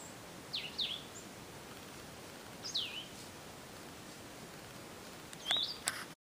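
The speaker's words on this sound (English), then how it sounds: "I love hearing the birds," Several short bird calls and chirps ring out in a quiet outdoor garden on a calm morning, three separate bursts spaced a few seconds apart against soft background hiss.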